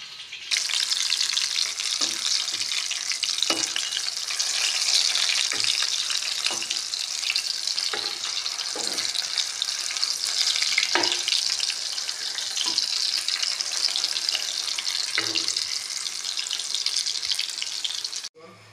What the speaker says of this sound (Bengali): এই দেখো বন্ধুরা শীতল বড়া বসিয়ে দিলাম